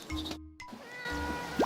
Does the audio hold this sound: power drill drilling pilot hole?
no